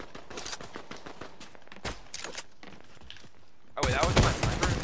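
Gunfire from a sniper rifle in the Fortnite battle royale game, heard as several sharp, separated shots and then a louder burst near the end. Players talk in the background.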